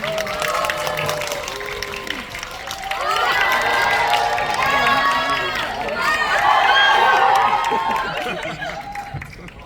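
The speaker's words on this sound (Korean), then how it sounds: "큰 박수 부탁드릴게요" A cinema audience at a stage greeting for the film Escape in Yongsan applauds and cheers loudly as the director and actors come out, with shouts and excited voices riding over steady clapping that swells twice.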